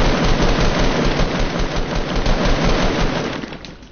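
Dense automatic gunfire in a Fortnite battle, loud and sustained rapid shots with booming low end that fade slightly toward the end.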